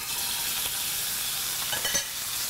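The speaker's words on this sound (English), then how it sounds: "If you don't hear that sizzle, your pan isn't hot enough." Grouper fillet sears in hot oil with a continuous bright sizzle and a few crackling spits, close up and fairly quiet.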